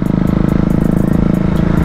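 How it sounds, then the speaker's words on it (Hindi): A motorcycle engine pops a wheelie, a loud, close, steady throbbing drone with a fast, even pulse held throughout and no voices. "काफ़ी टाइम बाद एक विली पॉप करते हुए आपका भाई चाहिए था हनी बॉय।"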